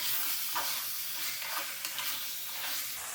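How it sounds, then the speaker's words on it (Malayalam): Chicken stirred in a sizzling curry pan, a spatula scraping and turning pieces with brief knocks over a continuous hiss of frying, close and moderately loud. "ഇനി നന്നായിട്ടൊന്ന് ഇളക്കി കൊടുക്കാം."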